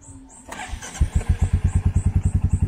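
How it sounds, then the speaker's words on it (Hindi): A motorcycle is started on a trip toward Dzukou Valley: a short whirr of cranking, then the engine catches and settles into a close, steady, rhythmic idle thump, with a faint chirping in the background. "सो बाइक स्टार्ट कर लो।"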